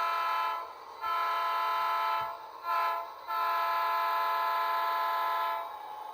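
An HO scale model train hums along steadily on a small switching layout with a sustained horn-like tone, a few short pauses in the drone, no voices.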